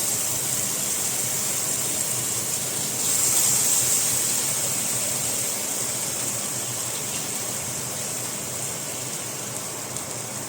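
Water from cooked pasta for koshari pours out through a strainer, a loud, steady rushing gush close by that swells briefly and then settles into a continuous wash without speech.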